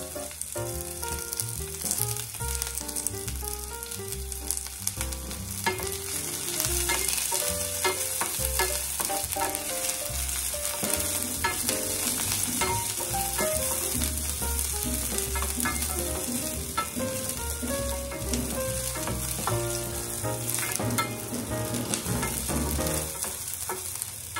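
Sardines and onion sizzle and crackle loudly in a hot pan, a dense continuous frying hiss with scattered pops and light scraping throughout, no speech.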